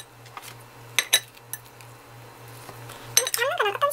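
Frozen dumplings are cut into bite-size pieces with a knife or scissors against a dish, giving scattered light clinks and taps over a faint steady hum, with a brief voice near the end.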